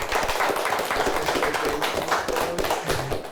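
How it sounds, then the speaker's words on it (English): Quiz show audience applauding the winners, a dense, steady patter of clapping at moderate loudness lasting the whole stretch, with no talking. "Let's give him a nice round of applause."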